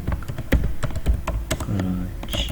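Computer keyboard typing during a Microsoft Word tutorial, a quick irregular run of close key clicks and thunks with a brief faint voice in the background.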